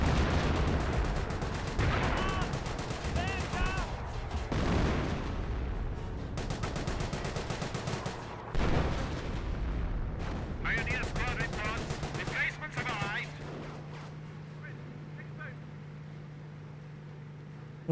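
Artillery barrage from a 25 pounder in the Company of Heroes 1 strategy game, heard as a loud run of booming explosions and gunfire bursts through the first half, then easing into quieter scattered blasts and a steady hum.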